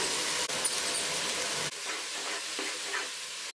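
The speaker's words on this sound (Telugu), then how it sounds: "మిల్ మేకర్ కీమాని కొద్దిసేపు మంచిగా వేయించుకోవాలి" Soya keema (meal maker granules) frying in masala with tomato in a pan, a steady broadband sizzle with stirring scrapes throughout, a brief dip partway then continuing slightly softer, no talk.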